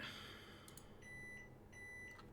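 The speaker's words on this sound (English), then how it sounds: "And it's beeping again." Two short, thin electronic beeps from a TerraMaster NAS storage device during a USB copy sound a moment apart against a quiet room hum, preceded by a couple of faint clicks.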